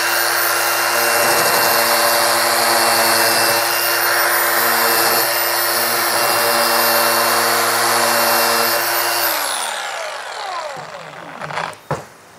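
Dongcheng DCMS03-100 cordless angle grinder cutting a 45-degree chamfer on a sharp edge, a loud steady high whine with grinding rasps that winds down after about nine seconds, followed by a few clunks.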